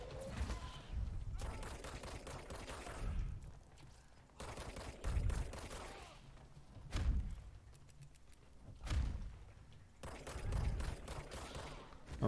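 Bursts of enemy gunfire in the video game Control come in repeated volleys, rapid crackling shots with heavy thumps between short quieter gaps.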